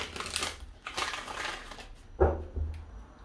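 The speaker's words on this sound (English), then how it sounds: "starting with the energy oracle deck, I'm going to give this five shuffles here" An oracle card deck is shuffled quietly at close range, a few soft papery rustles and flicks with a sharper snap near the middle.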